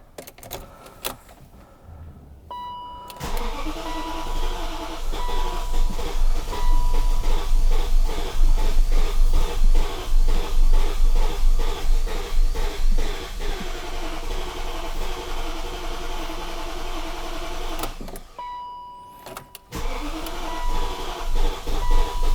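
A 2001 BMW 740iL E38, starved of fuel by bad gas, cranks in a long rhythmic churning run that chokes and dies, falls quiet, then starts cranking again near the end.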